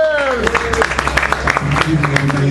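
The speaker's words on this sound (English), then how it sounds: "give him a round of applause to Darian" Brief scattered clapping from an audience at an evening book signing in New York, mixed with voices talking over it, fairly close and lasting only a couple of seconds.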